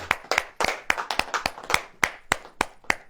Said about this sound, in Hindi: ऐसे ताली हो जाए, ताली हो जाए